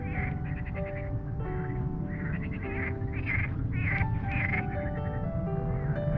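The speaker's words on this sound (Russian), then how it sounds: "О, как лягушки." Frogs croak in a pond in Peterhof's Meadow Park, a dense chorus of rapid, pulsing croaks repeating continuously, close and loud over steady background noise.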